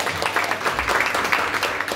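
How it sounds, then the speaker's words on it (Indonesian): A church congregation applauding during a sermon, a continuous wash of hand claps under a lively room, moderately loud and steady throughout. "Tepuk tangan yang paling meriah buat Allah kita"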